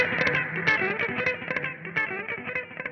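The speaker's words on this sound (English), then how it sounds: "Oh, this is echo." Heavily processed distorted guitar with a repeating echo effect, each note trailing into delayed repeats, played loud and continuous without talking.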